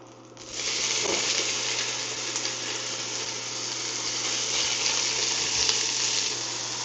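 Beef searing in olive oil in a pot for beef stroganoff, a steady loud hiss that starts suddenly and holds unbroken, with faint scrapes and no voices.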